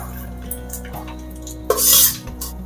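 Used oil left from frying jackfruit kofta is tipped out of a pan in a short, hissing, splashing pour, preceded by faint clinks of metal cookware in a quiet kitchen, with no speech.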